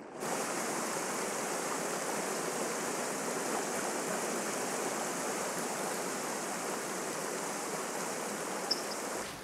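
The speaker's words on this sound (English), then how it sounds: "Hunting for insect larvae, the dipper virtually flies in the water, as easily as in the air, navigating even raging torrents." A raging mountain stream torrent roars as a steady, dense rush of water, loud and unbroken from start to finish with no voices.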